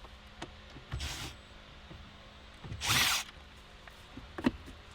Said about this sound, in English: I have my drill right here with a Phillips tip on it